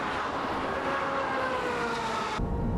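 A Ferrari 355 F1 races down the Fuji Speedway straightaway, its engine a sustained rising whine with climbing tonal harmonics, loud and steady before the sound shifts abruptly near the end.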